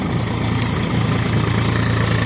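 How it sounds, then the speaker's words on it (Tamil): A farm tractor used for ploughing runs steadily at idle, its low, throbbing engine rumble continuous and close, with no talk. "எங்க உழவு டிராக்டர் தாங்க"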